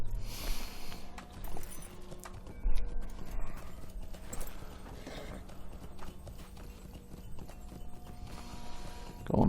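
Horse hooves clip-clopping as a rider travels back to town in the video game Frostbluff, a steady quick trot of hoofbeats at moderate level over faint ambient game sound, with a brief whinny-like touch.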